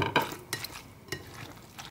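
A spoon stirs a mayonnaise topping mixture in a bowl, giving soft scraping and light clinks in a few quick strokes, close but quiet.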